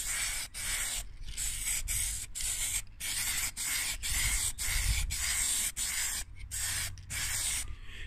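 Bursts of spray paint for plastics hiss onto a plastic home computer case in light coats, several long continuous sprays broken by short pauses, close and steady.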